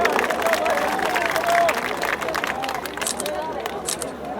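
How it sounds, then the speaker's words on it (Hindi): Clapping and crowd murmur fill the hall during an award at a mushaira poetry gathering in Mumbra, moderate and uneven, with voices talking and calling out over it. "आप लोग जोरदार तालियां बजाएं"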